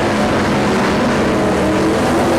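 Race cars at a dirt track roar loudly past together, producing a dense, steady engine drone with no breaks.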